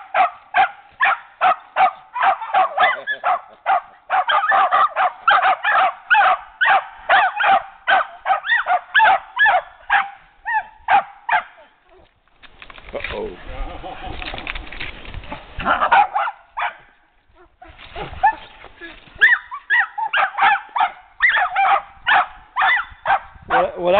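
Puppies bark in rapid high-pitched bursts for a long stretch, pausing briefly before resuming; whimpers and yips mix in, loud and close.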